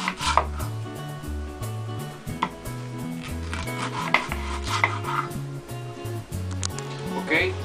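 Rapid repeated knife chops through an onion on a cutting board run under a person talking, with a music-like low tone pattern in the background.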